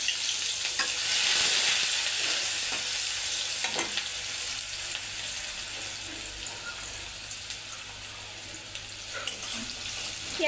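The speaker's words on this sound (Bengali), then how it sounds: "এবার পেঁয়াজটা বাদামি কালার করে ভেজে নিব।" Onion fries in hot oil in a home kitchen pan, giving a steady soft sizzle with occasional crackles and faint stirring scrapes, fairly quiet and without talk.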